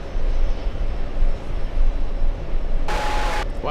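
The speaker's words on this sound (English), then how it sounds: "Aer Lingus 45 flying in from Manchester." An Aer Lingus jet arriving from Manchester at JFK, a loud broad engine roar that holds steady, with a brief bright burst of noise near the end.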